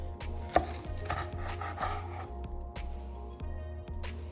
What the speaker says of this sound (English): so I'm just gonna cut them in half